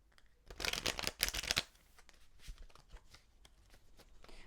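A tarot card deck is shuffled close up in quick riffling bursts, loudest at the start, then settling into softer, scattered flicks and taps.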